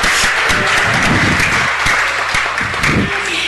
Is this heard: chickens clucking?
no